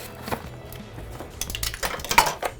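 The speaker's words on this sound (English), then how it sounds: "So now I'm going to take my measuring cup, try to get 4 nice teaspoons." Metal measuring cup scooping and tapping out teaspoons of pumice for a homemade orange-infused soap mix, giving a series of close, light clinks and scrapes of varying loudness with no talking.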